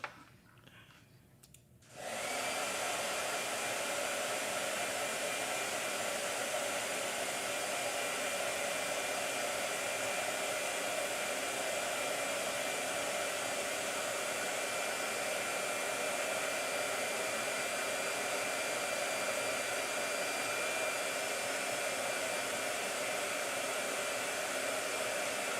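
A blow dryer switches on after a couple of seconds and runs in a steady, unbroken whir to dry watercolor paint on a hot press sketchbook page, close and continuous with no voices.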